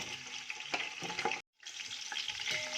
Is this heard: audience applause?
no